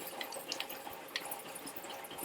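Water flowing through pipes in a Fallout video game settlement, a steady broadband rush with faint dripping accents, heard alone without speech.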